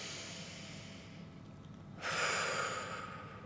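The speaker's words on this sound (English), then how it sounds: "So breathe in." A deep breath during a gratitude meditation: a slow, quiet exhale, then a louder, airy inhale taken close to the microphone that gradually fades.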